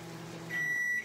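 A microwave oven hums steadily, then a sustained high electronic tone rings out over the drone for about half a second before cutting off.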